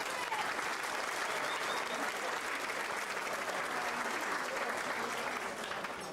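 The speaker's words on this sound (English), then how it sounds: "so they deserve a round of applause" A crowd at a hall of fame induction ceremony claps steadily in a dense, even round of applause that fills the room from start to finish.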